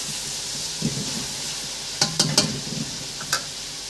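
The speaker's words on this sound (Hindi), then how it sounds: "1 से 2 मिनट फ्राई करूंगी मसालों को।" Spices for aloo gobhi fry in a pan with a steady, close hiss of sizzling oil. A few sharp spatula clicks and scrapes break in, with no talking.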